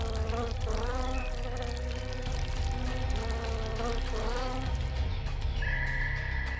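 Bees in the Roblox game Winnie the Pooh: Blood and Honey drone in a close, loud, continuous buzz with wavering pitch, joined by a brief higher whine near the end.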